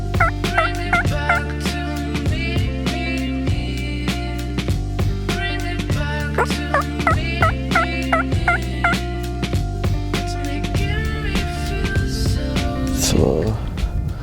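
A wild turkey tom gobbles in repeated bursts in a Wisconsin field, with clicking and rustling noises close by throughout.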